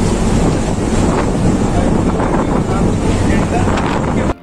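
Storm wind and crashing sea waves roar continuously around the tug boat Varaprada as it sinks at sea during Cyclone Tauktae, loud and constant with heavy wind buffeting the microphone, cutting off abruptly at the end.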